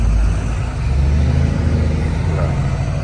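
A fully loaded truck grinds uphill in C gear, its engine holding a loud, steady low drone with road noise throughout.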